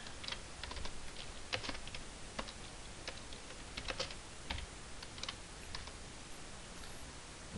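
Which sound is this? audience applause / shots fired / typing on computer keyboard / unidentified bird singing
typing on computer keyboard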